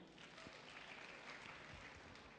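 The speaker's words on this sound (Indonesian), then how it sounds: "Tepuk tangan untuk Anda semua" Audience at a cervical cancer health seminar applauds, a faint, steady wash of clapping that runs evenly for a couple of seconds with no voices over it.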